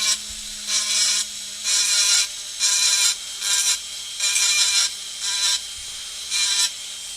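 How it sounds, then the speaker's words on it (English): A Dremel rotary tool grinds down a small plastic part of a 1967 Impala model kit in about eight short, even bursts of high-pitched rasping, close and fairly loud, over a faint steady motor hum. "I'm just going to take my Dremel here, and I'm just going to take it down"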